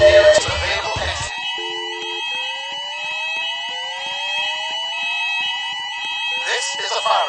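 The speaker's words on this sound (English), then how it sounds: "This is a fire alarm. Please leave the building immediately by the nearest available exit." Mall fire alarm blaring steady electronic tones and sweeps alongside a recorded voice evacuation message, loud and continuous, with louder bursts at the start and end.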